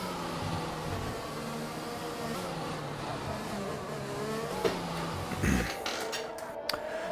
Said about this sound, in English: some cars trying to get past each other